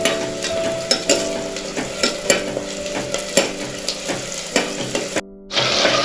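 Onions frying in a pan on a gas stove, loud close sizzling with regular stirring clatters and scrapes, cutting out briefly near the end before the sizzle resumes.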